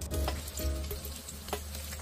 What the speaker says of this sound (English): scoop up some of this shrimp into balls and fry them on both sides for 3 minutes